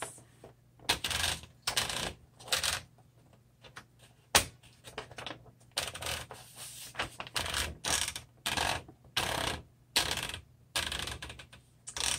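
A red 1960s Smith Corona Classic 12 manual typewriter clatters in quick bursts of keystrikes, with short pauses and a sharp carriage-type clack partway through, close and clear with no talking.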